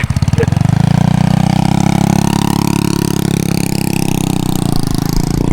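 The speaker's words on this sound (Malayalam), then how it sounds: "അവൻ മറ്റേ എക്സോസ്റ്റ് ഒക്കെ കയറ്റി ഫുള്ള് മോഡിഫിക്കേഷൻ ആണ്" Loud, steady drone of a fully modified vehicle engine fitted with an aftermarket exhaust, rumbling close by throughout with a slight swell in revs, in a Thai village.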